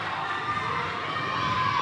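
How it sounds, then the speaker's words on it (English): The Hana crowd at a boys basketball game cheers and shouts loudly in a packed gym, a steady wash of voices including children's yells with no break. "Now the crowd, the Hana crowd getting into it"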